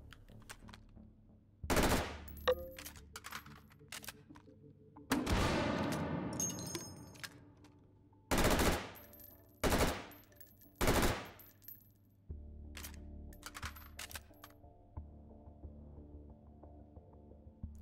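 A tactical gun fires in the VR shooter H3VR, with several loud, separate bursts, one a rapid automatic rattle, spaced out by quiet gaps that hold only low hum and handling clicks.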